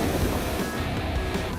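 Strong sea waves and gusting wind off the coast of Kayong Utara, West Kalimantan, during a kayaking trip, a loud, continuous roar of surf and buffeting wind noise on the microphone, close and without talk.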